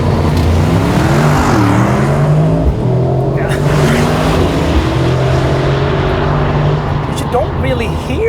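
A loud Mercedes-AMG GT 63 engine roars and climbs in pitch during a race-start launch, its revs rising and shifting continuously, with a voice talking over it.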